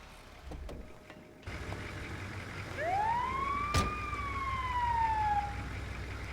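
Ambulance siren in the GTA V video game, a single loud wailing tone that swoops up and then slowly falls away, over low traffic and engine rumble.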